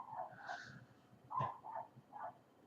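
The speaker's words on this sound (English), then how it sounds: "Oh, you can hear the dog barking," A dog barks somewhere off in the background, a few faint, scattered yips and woofs with soft breathy noise between them.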